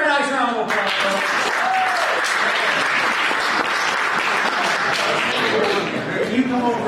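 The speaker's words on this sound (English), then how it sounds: "Give her a nice round of applause, folks." Audience applause at a magic show during a season celebration gala, a sustained dense wash of clapping that continues steadily throughout, with a voice briefly heard over it.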